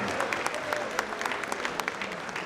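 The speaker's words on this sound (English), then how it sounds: "One more round of applause for them" Steady applause from a school concert audience for a combined 7th and 8th grade and high school band, dense and sustained with scattered sharper claps standing out.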